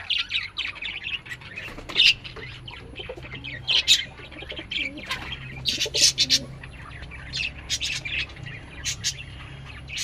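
Pigeons coo low and steadily while other birds chirp sharply overhead, with a few bursts of wing flapping mixed in.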